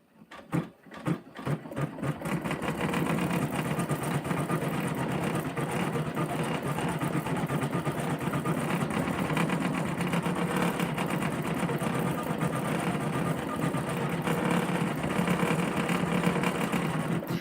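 An embroidery machine stitching a design onto a basket bottom starts with a few separate clunks, then settles into a steady, rapid, close-up mechanical chatter that runs unbroken to the end.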